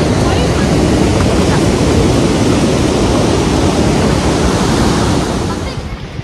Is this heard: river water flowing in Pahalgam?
yes